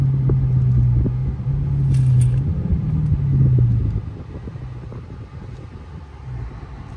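A wide-body Dodge Hellcat gives a deep, steady engine rumble nearby in traffic, loud at first and then settling into a lower idle-like drone.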